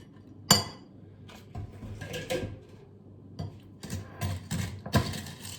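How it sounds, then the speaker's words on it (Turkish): Spoon stirring Nesfit cereal with yogurt in a bowl, scattered close clinks and scrapes of the spoon against the bowl, with one sharp knock near the start and quiet between the bursts. "Şimdi yine güzelce karıştıracağım."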